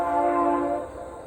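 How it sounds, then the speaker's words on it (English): A train passes nearby with a sustained, steady horn blast that holds loud and then fades slightly, with no voices. "That's a train nearby."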